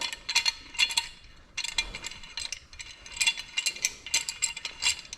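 A hand ratchet clicks in rapid bursts while loosening a bolt during a brake job on a 2016 Honda Pilot, each burst a sharp metallic pawl chatter close to the listener, separated by brief pauses.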